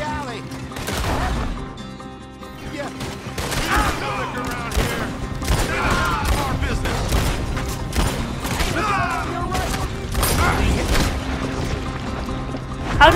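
Gunfire in Red Dead Redemption 2, with repeated loud shots and booms in rapid irregular bursts across a busy game soundscape, close and dense throughout.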